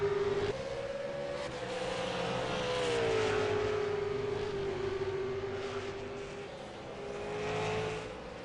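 V8 Supercar race cars at Donington Park, engines droning with a sustained tonal whine that shifts pitch as the cars accelerate and pass, swelling and fading in loudness over several seconds.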